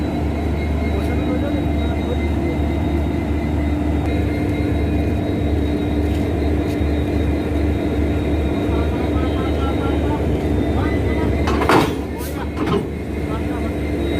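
Aboard the Tinsukia Vistadome Express with its locomotive ahead, a loud, continuous rumble and rattle of the moving train fills the cabin, with a brief louder clatter near the end and voices faintly mixed in.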